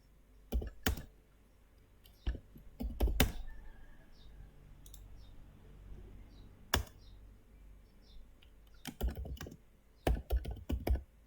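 Typing on a computer keyboard in a quiet room, with irregular bursts of sharp key clicks separated by pauses, close and clear with no talk.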